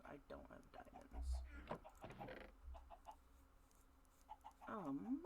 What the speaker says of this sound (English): The chickens are barking.